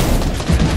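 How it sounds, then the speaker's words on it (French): Rapid gunfire from a Fortnite match on PS4, a dense, continuous burst of shots sustained at steady loudness through the short moment, with no clear talk over it. "Ah, ça tire"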